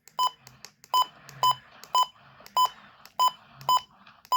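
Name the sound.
button beeps on a WR120 weather radio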